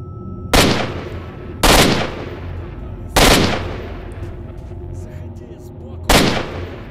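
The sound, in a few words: gunfire in the video game S.T.A.L.K.E.R.: Shadow of Chernobyl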